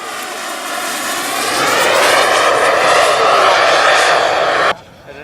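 A turbine jet model airplane passes at an air show with a loud, rising whine that swells and holds for several seconds, then cuts off abruptly, leaving quieter background noise.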